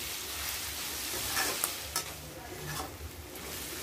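Paneer chilli masala fries with Kashmiri red chilli powder in a pan, a steady close sizzle with a few scraping stirs of a spoon, no talking.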